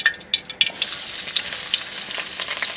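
Chopped onion frying in oil for duck curry sizzles loudly and close, with sharp crackles and spits at the start that settle into a continuous hissing fry.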